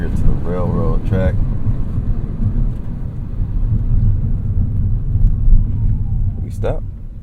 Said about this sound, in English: Just hear a whole lot of wind noise